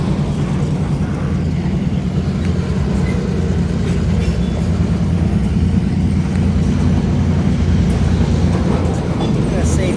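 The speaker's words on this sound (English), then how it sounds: "there's a train, and none of the single lights are working." A train passes close by a rail crossing whose signal lights are not working, a loud continuous rumble and rolling clatter that holds steady throughout.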